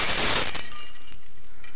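Window glass smashing in the Uninvited video game: a loud, sharp burst of breaking shards that peaks in the first half-second, then a faint tinkling tail that fades away.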